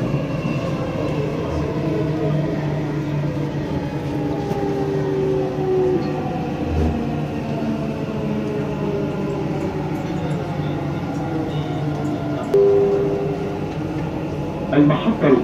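A Dubai Metro train runs between stations near the Red and Green Line interchange, giving a steady, continuous rumble and whine inside the car with a slight swell near the end.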